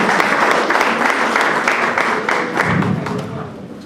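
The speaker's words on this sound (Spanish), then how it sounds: "la recibimos igual a la Lupita con un fuerte aplauso" An audience at a round-table panel on teaching methods breaks into steady, dense applause that holds loud for a few seconds and fades slightly toward the end.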